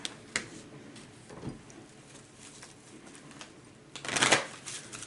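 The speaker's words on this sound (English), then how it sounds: "let's pull some energy cards" Tarot cards being shuffled, with soft papery riffles and pats spread through the clip and a louder burst of rapid shuffling near the end, close and alone.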